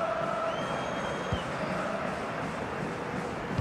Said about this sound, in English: Well, the crowd are certainly not happy.